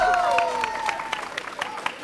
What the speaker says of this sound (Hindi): बहुत सारी तालियां अपर पाशा के लिए।